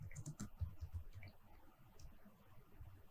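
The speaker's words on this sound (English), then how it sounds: "So here I'll just type it as recent post." Typing on a computer keyboard while setting up a WordPress blog post: a quick run of close, light key clicks that grow sparser, with no voice over them.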